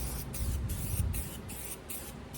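Bursts of spray painting on a galley overhead cabinet above a sink, a steady hiss pulsing on and off in short passes for thin coats, close and fairly loud with no talk.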